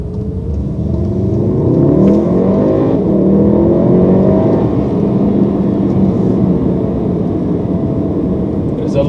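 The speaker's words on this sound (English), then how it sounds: "There's a lot of power, man, coming from that engine." Volkswagen Golf R MK7 hot hatch engine accelerating on a test drive, a loud, steady rising drone heard from inside the cabin, sustained for several seconds.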